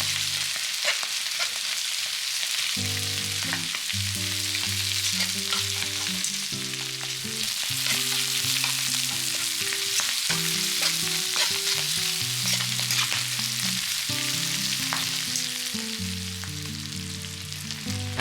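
Leeks stir-fry in a hot pan for Japanese-style fried udon, a continuous loud sizzle with repeated scraping and tossing strokes throughout, no voices.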